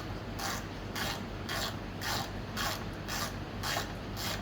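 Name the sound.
ratchet tightening bolts on Honda Elite scooter rack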